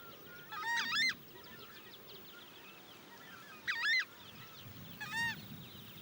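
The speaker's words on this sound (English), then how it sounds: "The voice of this strange bird the size of a turkey can be clearly heard 3 kilometers away." A large turkey-sized Amazon bird gives three loud honking calls, each a harsh, rapid stutter of notes, spaced a few seconds apart with quiet in between.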